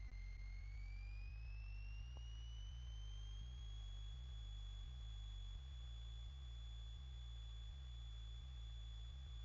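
Small training aircraft engine held at 1700 rpm run-up, a loud, steady low drone with a pulsing rhythm and a rising whine that settles into a constant high tone.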